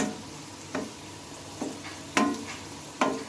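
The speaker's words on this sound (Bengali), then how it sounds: "বন্ধুরা দেখো লাল লাল করে কিন্তু আমি উল্টে পাল্টে ভেজে নিয়েছি" Puris made with boiled potato, flour and egg fry in hot oil; a soft steady sizzle is broken by four sharp spatula scrapes and taps at irregular intervals.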